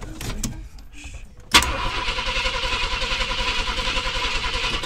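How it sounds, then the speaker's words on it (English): A 1967 Ford Galaxie's starter gives a short burst, then the engine cranks steadily and loudly with an even rhythmic churn for several seconds, close by and without talk. "Well, starter works."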